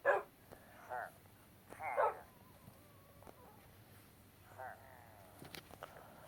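Cartoonish dogs in Minecraft bark in a few short, scattered bursts, fairly soft over a low background hum.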